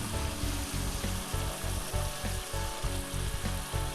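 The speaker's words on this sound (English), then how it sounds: "I'm going to deglaze my pan with about 4 tablespoons, 1/4 cup of red wine." A steak Diane pan deglazed with sweet port wine, an intense close sizzle and bubbling with rhythmic stirring or scraping through it, no one talking.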